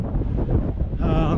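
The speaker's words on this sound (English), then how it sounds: "Here comes the wind." Wind gusts buffet the microphone on an open sagebrush mountain ridge, a loud rumbling roar that swells and rises in pitch over about a second and a half, with no other sounds.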